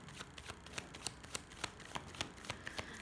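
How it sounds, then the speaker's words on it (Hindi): Tarot cards being shuffled during a Hindi card reading, a quick steady riffle of soft papery snaps and flicks, close and fairly faint, repeating in a brisk rhythm. "मैं शफल कर रही हूँ."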